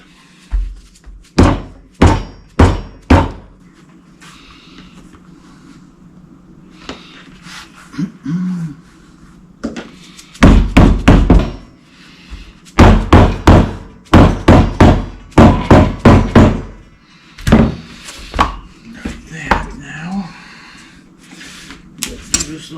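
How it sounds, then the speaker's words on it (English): Hammer tapping a metal car sun visor in a garage while it is being recovered, sharp metallic knocks in quick bursts of several strikes separated by pauses, loud and close. "Take a hammer and tap that."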